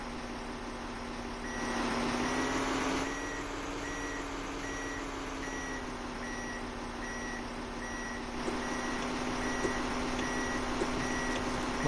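A mining truck in Heavy Machine & Mining Simulator backs up, its reversing alarm sounding a regular run of evenly spaced beeps over a steady low engine drone, moderately loud and continuous throughout.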